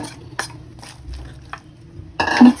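Sautéed pork liver and pechay stirred in a pan: a handful of scraping, clinking strokes spaced apart, ending in a louder burst of sizzling and utensil clatter near the end.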